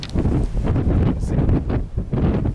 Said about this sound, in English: As you can see, the wind's blowing back.